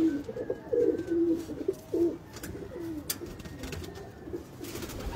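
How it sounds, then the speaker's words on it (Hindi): Large high-flying and breeder pigeons coo in a loft, with several soft repeated coos close by at first, then fainter rustling and light bird noise. "वाह बड़े जिस्म का कबूतर है।"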